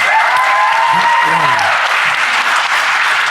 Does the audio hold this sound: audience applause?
yes